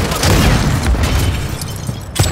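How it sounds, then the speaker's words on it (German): Stun grenade detonating in Call of Duty Modern Warfare 3 multiplayer, a loud boom with a sustained rumbling blast and a sharp pop near the end, with no talk over it. "Betäubungsgranate geworfen!"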